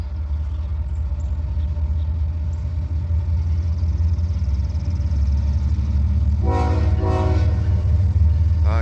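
Train rumbling loud and close past a grade crossing in Abbeville, a continuous heavy drone of rail cars, then a horn blaring in short pulses near the end.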